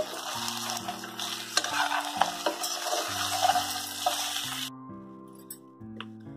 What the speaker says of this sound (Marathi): पूर्ण मिक्स करून घेते.